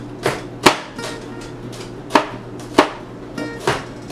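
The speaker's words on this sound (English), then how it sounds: "So I'm going to mince up the jalapenos." A knife minces jalapenos on a cutting board in sharp, close chops, about eight irregular strikes over four seconds, with no voices.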